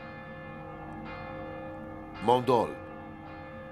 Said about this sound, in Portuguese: À distância, podemos ouvir os sinos de Viviers